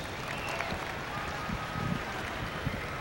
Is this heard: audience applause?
yes